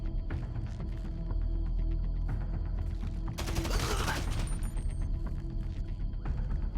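Suppressed gunfire in GTA V, a muffled burst of rapid shots around the middle of the passage over steady game ambience and music.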